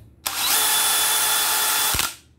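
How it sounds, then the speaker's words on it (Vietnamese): A DeWalt DCD996 cordless drill whirs at a steady high pitch for under two seconds, then brakes with a sharp clack as its gear knocks, and spins down. "khi thắng lại là nó đập cái nhông đâu nó đập một cái thì nó kêu cái cạch"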